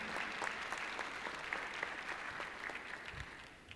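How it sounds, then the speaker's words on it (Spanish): A lecture audience at a talk on criminal law and forensic science applauds to welcome the speaker: soft, even clapping from a crowd, sounding distant and steady for a few seconds with no speech. "Aplauso para recibirlo."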